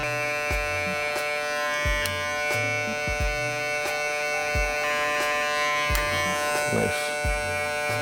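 Electric hair clippers fitted with a 1 guard buzz steadily and loudly up close in a living room, with a pulsing low drone and faint contact scratches as they cut hair.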